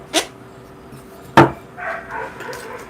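A dog barks outside a house, two sharp, loud barks spaced about a second apart, followed by fainter yelping and whimpering sounds.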